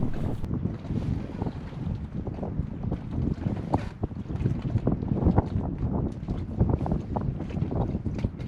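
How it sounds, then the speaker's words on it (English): Gusty wind buffets the microphone around a gently rocking sailboat, with soft creaks and water sloshing in a steady, low rumble. "with the boat bobbing gently and the sound of the wind"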